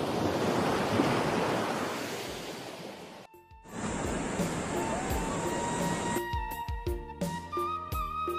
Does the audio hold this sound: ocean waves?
yes